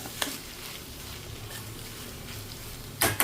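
A vermicelli pulihora is stirred in a pan with a soft sizzle, with a few sharp scrapes of the spoon near the start and again at the end.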